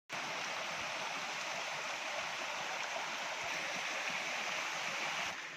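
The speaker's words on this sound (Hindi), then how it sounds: "ये देख सकते हैं आप, छोटा सा झरना" A small waterfall in a forest in Madhya Pradesh rushes in a steady, broad roar of falling water, close and constant for several seconds with no voices.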